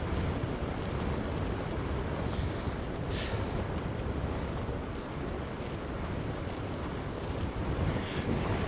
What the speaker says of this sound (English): Went into a stiff headwind.